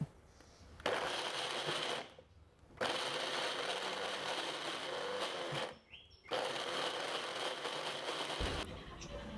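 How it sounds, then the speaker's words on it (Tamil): A kitchen mixer grinder coarsely grinds onions for onion thokku, running in loud, whirring bursts of a few seconds each. Brief stops split the bursts, giving a pulsing on-off pattern close to the listener. "இப்போ இந்த வெங்காயத்தை 1க்கு 2 அரைச்சி எடுத்துக்கலாம் வாங்க"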